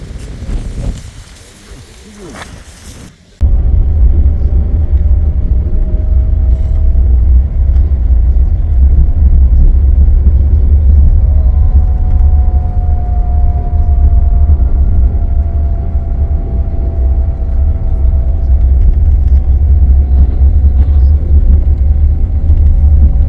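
A bus rumbling along on a windy evening journey, its engine a heavy, steady low drone that kicks in abruptly after a quieter opening and holds loud and close, with occasional voices underneath.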